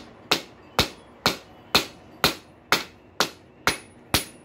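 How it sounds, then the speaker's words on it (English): Steady hammer blows on a rail spike laid over the edge of an anvil, nine ringing metallic strikes at an even pace, close and loud, each with a short bright decay. "stock in there and try to curl this down onto it. Lay it over the edge of the anvil."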